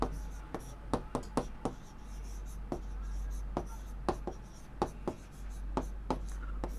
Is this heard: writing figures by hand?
yes